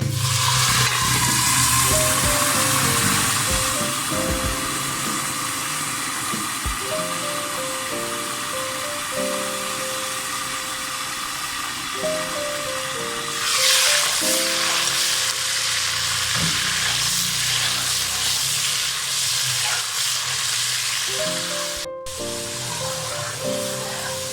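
Browned onions sizzle hard in a hot pan after a splash of water goes in for aloo matar pulao, a steady loud hiss filling the whole stretch with faint tonal sounds underneath.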